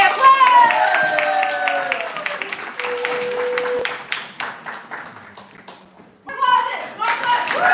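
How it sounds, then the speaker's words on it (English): Clapping and light cheering from a small audience at a poetry reading and open mic night, rising and fading over several seconds, with tonal whoops and speech-like sounds overlapping, then a fresh burst near the end. "Yay! Applause!"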